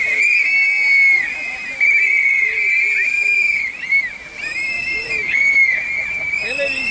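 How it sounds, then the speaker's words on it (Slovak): A crowd at a Slovak citizens' rally whistles in protest, a loud, shrill, sustained chorus of many whistles rising and falling together over murmuring voices. "áno, zapískajme si, tak si zapískajme."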